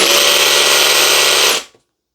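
A loud Stanley FatMax V20 SDS drill runs in hammer mode with a rapid, buzzing percussive chatter, then winds down and stops abruptly, leaving silence.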